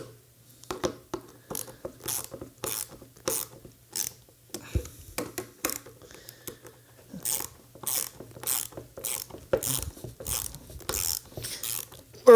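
Screws being tightened on a drive wheel assembly, a run of sharp ratcheting clicks in short bursts with brief pauses between them, close and fairly loud with no talking.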